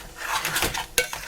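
Utensil scraping and clinking against a cooking pot while a dish is stirred during biryani preparation, a brief run of close metallic scrapes ending in a sharper clack, with no talk.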